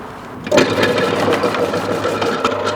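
A Robot Coupe CL 50 vegetable slicer cutting potatoes starts abruptly after a quiet moment, then runs as a loud, steady motor drone with rapid repeated cutting clatter and no voices.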